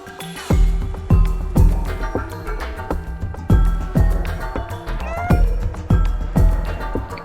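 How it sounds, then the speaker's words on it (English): A cat in the video game Stray meows repeatedly and loudly, around eight distinct calls spaced roughly half a second apart, each with a short rising and falling tone, alone without talk. "Listen to the meowing."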